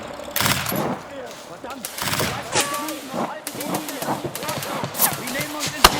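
Gunfire in a WWII war film, a scene near a tank by a meadow: sharp, loud shots and bursts recur through the whole stretch, with shouted voices in between.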